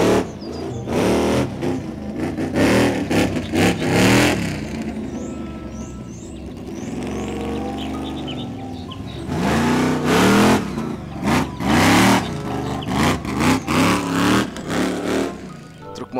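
A toy monster truck with oversized wheels runs on its own, a whirring motor rising and falling in bursts with quieter gaps between, close and fairly loud.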